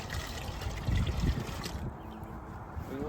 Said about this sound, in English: I'm gonna just pour it into my collection bucket.